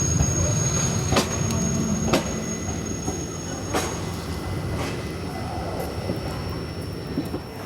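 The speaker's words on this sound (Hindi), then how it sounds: "बारह बजकर 55 पर हमारी ट्रेन पहुंची है" The Rajya Rani Express rolls into Partur railway station with a steady rumble, occasional wheel clacks and a thin high wheel squeal, heard from on board.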